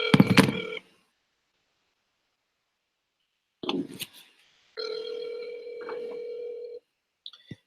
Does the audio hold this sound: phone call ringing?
yes